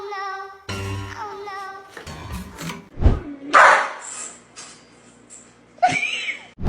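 At a grooming salon, a dog howls, yips and whines along with a song playing nearby. The dog's cries come in bursts over the tune, close and fairly loud, with pauses between them.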